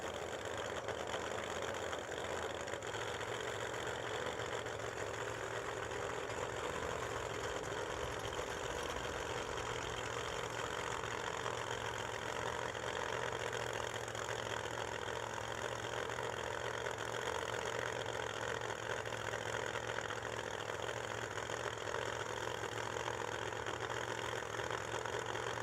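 Pro Mod drag racing cars idle at the start line at a drag strip, a steady rumbling engine drone with a loud crowd-like wash over it throughout, heard from a distance.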